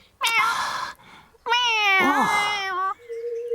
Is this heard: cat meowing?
yes